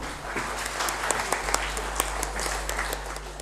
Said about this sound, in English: Please welcome sir with a big round of applause.